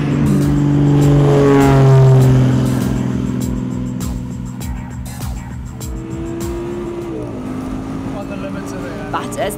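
Audi R8 Spyder accelerating hard from a race start, a loud engine roar climbing through rising gear-change sweeps with tire noise, then easing into a steadier drone as it pulls away, with a voice talking over it.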